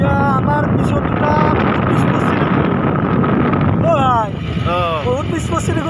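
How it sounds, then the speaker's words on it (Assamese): Two motorbikes ride along a road on the way to Ukiam, with heavy wind buffeting the microphone and a steady engine drone throughout, while someone talks over it and a higher whine appears near the end. "বৰ্তমান আমি দুখন বাইক লৈ আহিছোঁ বাইকতে গৈ আছোঁ"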